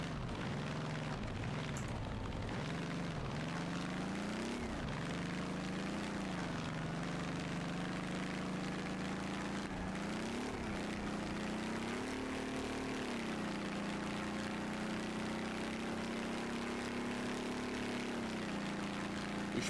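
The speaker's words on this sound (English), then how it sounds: "We are instantly just spinning up the tires." A Gavril T-Series truck engine in BeamNG.Drive revs hard while the tires spin, a loud continuous engine roar rising and falling in pitch through repeated rev swells, steady throughout with no talking.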